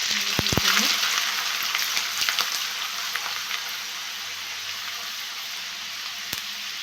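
Shredded potato chips fry in hot oil, giving a loud, continuous hissing sizzle close by, with a few sharp clicks and stirring knocks near the start before the bubbling settles into a steady crackle.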